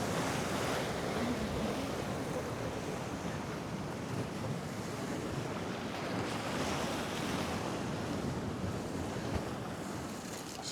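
Rough sea surf pounds the shore at Can Pastilla, Mallorca, on a stormy day, a dense continuous roar of breaking waves mixed with gusting wind buffeting the microphone, with no voices.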